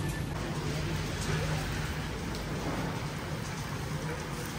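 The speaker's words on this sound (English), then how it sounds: "Guys, it's raining." Steady heavy rain pours down outdoors in bad weather, a dense continuous hiss with a faint low rumble underneath, close and unbroken throughout.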